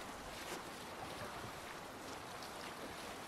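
A ship under sail in the video game Assassin's Creed Valhalla, a steady broadband wash of wind and waves against the hull with no talking.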